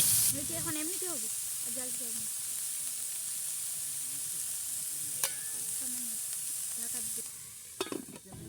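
Soft, hissing sizzle of potato greens frying in a pan over low heat, heard close and under a person talking, with a few clatters toward the end.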